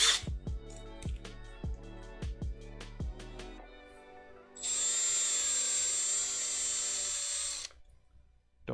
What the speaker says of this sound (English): Just gotta drill this out.